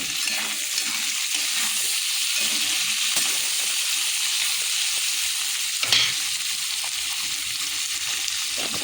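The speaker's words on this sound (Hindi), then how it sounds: "पियाज आमर भाजी हो गला पकईदे टमाटो" Onions and tomato sizzle and crackle in hot oil for a curry, a close, continuous frying hiss with a brief louder splash near the end.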